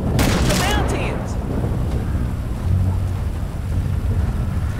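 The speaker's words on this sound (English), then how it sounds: "Cop doesn't know, he can't hear over the thunder." Heavy thunder rumbles in the video game GTA 5 during a stormy night in the mountains, a loud, sustained low roar, with voices talking over it at the start.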